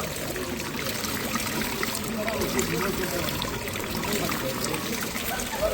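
Cold water runs from a tap at a mosque ablution area in a steady, close trickle, with faint voices in the background.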